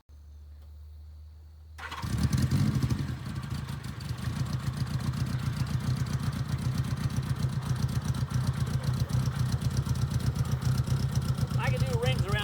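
A 1950 Willys M38 Jeep powered by a Honda Goldwing motorcycle engine starts up after a quiet moment, then pulls in low range first gear with a steady, close, busy engine drone that slowly rises, and a voice speaks over it.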